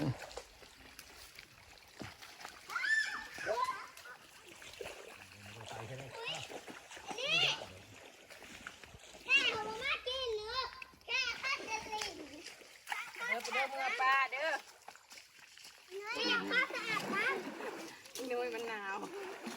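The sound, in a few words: children splashing and playing in stream water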